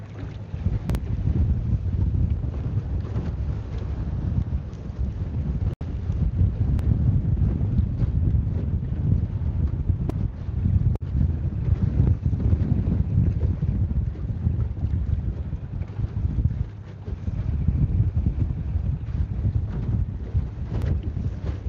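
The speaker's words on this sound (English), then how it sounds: "Oh, this wind." Strong wind gusts roar across the microphone on an open Montana reservoir during a fishing outing, a loud rumbling buffet that surges and eases for over twenty seconds with no talking.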